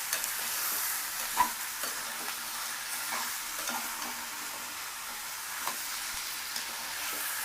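Marinated chicken is stirred into cooking onions in a hot pan, giving a quiet, steady sizzle with soft, irregular scraping taps from the stirring.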